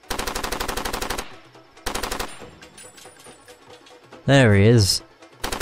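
Rapid bursts of automatic gunfire from the video game Far Cry 2 open and close the scene, loud and rattling, with a gap between them where someone talks briefly.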